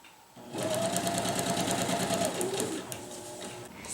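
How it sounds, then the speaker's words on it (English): A sewing machine runs a steady straight stitch along hammock fabric, close and continuous for about three seconds, its rapid even whir starting abruptly and stopping cleanly. "I'm going to run a straight stitch on my sewing machine with a 1/2-inch seam allowance"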